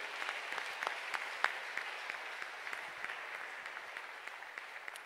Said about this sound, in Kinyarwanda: Acclamons fort pour le Seigneur, pour sa parole